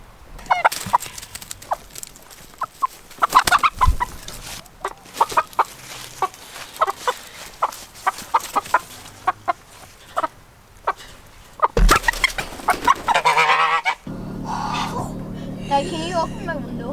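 A few straggler farm chickens and a goose give repeated clucks and short squawks near and far, with louder bursts of calling toward the end. People talk intermittently throughout.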